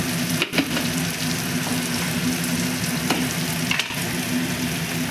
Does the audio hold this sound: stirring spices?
yes